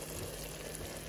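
Chorba soup in a pot being stirred, a dense steady bubbling sizzle with faint scraping, constant and close throughout the short moment, no voices.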